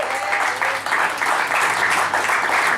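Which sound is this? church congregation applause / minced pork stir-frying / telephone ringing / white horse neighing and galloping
church congregation applause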